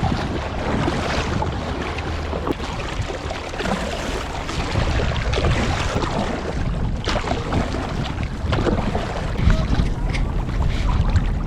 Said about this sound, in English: I'm leaving the harbour now on the kayak to go fishing